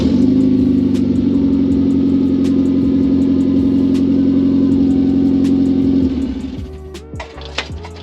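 A Mitsubishi Lancer Evo X engine idles loud and raw with no muffler, a harsh steady drone that lasts several seconds, then drops off and sputters with a few blips.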